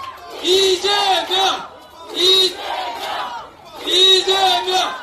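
A crowd at a Democratic Party election campaign rally in Seodaemun, Seoul, cheers in three loud, rhythmic bursts of chanting voices in unison, with brief lulls between them.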